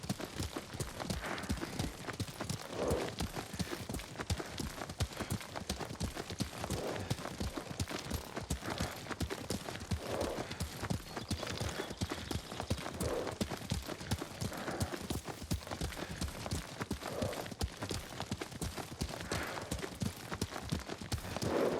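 Rapid rhythmic clip-clop of horse hooves during riding in the game Ghost of Tsushima, a steady galloping beat that stays close and prominent throughout, with no speech over it.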